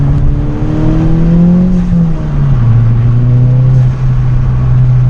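A Volkswagen MKVI Jetta GLI with the 2.0T TSI engine pulls hard through second and third gear, its steady engine drone sliding up in pitch, dipping at the shift, then climbing again, loud and continuous with no talk.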